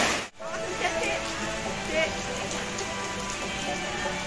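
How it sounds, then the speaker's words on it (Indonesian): Steady rain falls at a European-style plaza at Dusun Semilir, Bawen, a continuous hiss of drops on surfaces under shelter, with a brief dip near the start. "Ini masih hujan."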